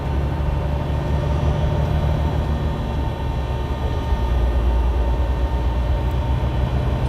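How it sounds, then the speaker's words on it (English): A train passes on a highway 30 route from Blackfoot, Idaho toward Wyoming, heard as a steady low rumble and drone through a truck cab, continuous and fairly loud with no talk. "Oh, there goes the train."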